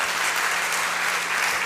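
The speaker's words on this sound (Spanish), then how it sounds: "apláudale a Cristo, hermano" A church congregation applauds steadily throughout, dense clapping spread evenly across the room with no voices rising above it.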